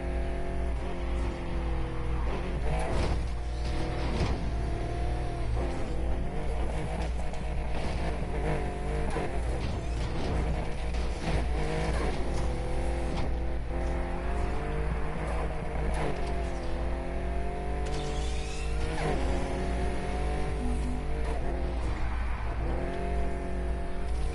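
Race cars in Need for Speed Heat, an engine roaring continuously for over twenty seconds, pitch climbing and dropping as it revs through gear shifts and corners, loud and up close without voices.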